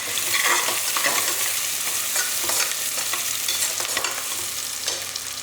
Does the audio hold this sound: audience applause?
no